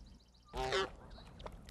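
A single Canada goose lets out a short, nasal honk, close and clear, followed by faint rustling in an otherwise quiet outdoor setting.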